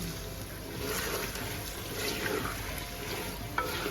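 Chicken browning in a pan with onion, garlic-ginger paste and cumin for baingan gosht, giving a steady, close sizzle with faint stirring scrapes throughout.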